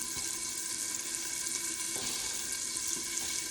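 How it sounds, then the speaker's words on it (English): Chicken fries in oil inside a covered pot while cooking Jamaican chicken, giving a steady, even sizzle and crackle, fairly quiet and close, with no voices over it. "I like to cover my pot when I'm frying"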